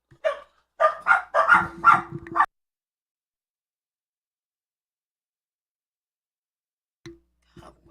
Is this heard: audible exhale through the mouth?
no